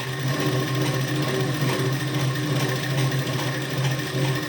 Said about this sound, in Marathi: यावर परत पुन्हा डबल शिलाई देऊन घ्यावं लागेल आपल्याला